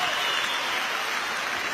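An audience applauds for a performer at a 2017 concert, with dense, lively clapping from a crowd that holds steady throughout the short burst.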